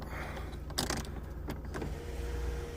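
Electric sunroof motor on a Volkswagen Golf Mk4 GTI 1.8T, heard as a steady whirring hum inside the car, with a few brief clicks and knocks as the panel moves.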